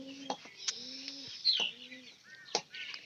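A pigeon coos close by in several soft, repeated low phrases, with a few higher chirps mixed in and faint background noise around the calls.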